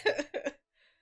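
A person coughs two or three times in quick succession, close and fairly loud, followed by a brief faint throat sound, with no speech.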